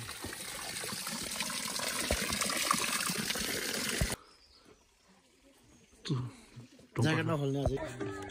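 Steady broadband rush of flowing water at Dhunge Danda on the Maiyung Dada forest trail fills the first half, then cuts to quieter forest ambience with brief bursts of voices.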